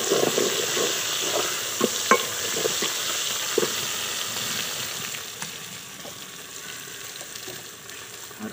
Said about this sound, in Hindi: अभी हम इसमें हरी मिर्च और टमाटर डाल, और ये लहसुन भी हम इसमें डाल देते हैं